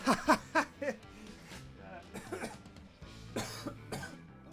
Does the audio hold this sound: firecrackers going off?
no